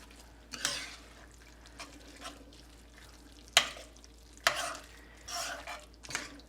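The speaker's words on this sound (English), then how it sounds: "We're just going to mix all that together with that bacon and cabbage." A spoon stirs bacon, cabbage, cream soup and milk together in a pan, giving several wet scraping, sloshing strokes at irregular intervals, close and fairly soft.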